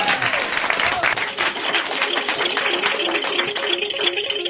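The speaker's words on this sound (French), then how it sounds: "rentre dans ce studio sous les mêmes applaudissements enflammés du public" Studio audience applause on a French television variety show, a dense, loud, continuous wash of clapping that fills the whole stretch, with some musical tones faintly underneath.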